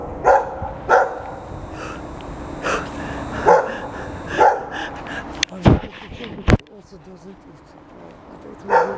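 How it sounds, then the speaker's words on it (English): A dog barks repeatedly in spaced bursts, fairly close, with a person speaking between and over the barks. "Oliver, this dog."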